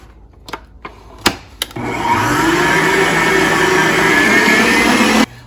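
An electric mixer whirs steadily and loudly for several seconds, mixing eggs into a batter for cranberry cinnamon muffins, after a few short clicks and knocks at the start.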